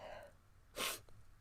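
One quick sneeze, fairly close and sharp, bursting out of quiet room tone and followed by a soft breath.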